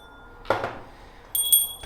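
A vintage metal bell made to hang on an elephant rings indoors with a bright struck tone, one clear strike and then a second ringing burst a moment later, moderately close.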